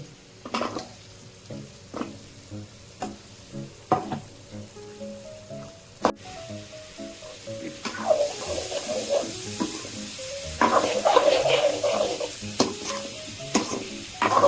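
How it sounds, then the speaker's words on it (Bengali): Fried potatoes and cauliflower tipped into a sizzling pan for a nilotica fish curry, sharp scraping stirs at first, then a louder rising sizzle with clattering stirring as the pieces settle in. "আমি এখন আলু ভাজা আলুগুলা কপিগুলা দিয়ে দিচ্ছি।"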